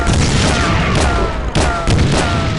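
Gunfire from a video game, several booming shots in a steady run over a dense layer of game sound, loud and close, with a sharp burst standing out near the middle.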